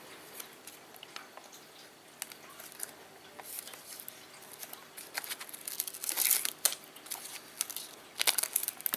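A small pink Phomemo pocket thermal printer is handled while its thin protective plastic film crinkles and tears in quiet bursts, close and intermittent, with louder crackles toward the end.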